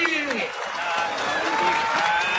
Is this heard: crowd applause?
yes